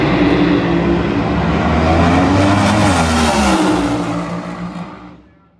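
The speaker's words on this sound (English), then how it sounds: "The fastest buddy car ever, 264 miles an hour, Dan Horan." Nostalgia funny car at a drag strip making a loud, sustained engine roar at close range that swells and then fades away as the car pulls off down the track.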